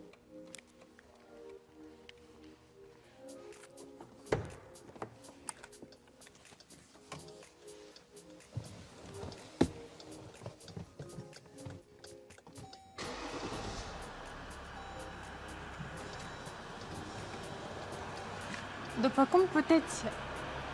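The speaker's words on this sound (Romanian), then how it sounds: "haideți să îi auzim și sunetul acestui motor" A 2014 Jeep Grand Cherokee Overland diesel engine starts up after some clattering and handling noises, then settles into a steady, even idle that runs on to the end with light clicks over it.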